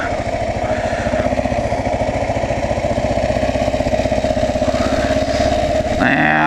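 A running air compressor, after a fault seemed to clear up on its own, throbs steadily with a pulsing motor-like drone that stays loud and close throughout, then shifts in tone near the end.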